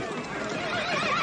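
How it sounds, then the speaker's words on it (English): A half-wild horse being broken lets out a loud, close whinny, a short shrill neigh that wavers and drops over about a second, with faint hoof sounds beneath. "Horse looks like it's half wild."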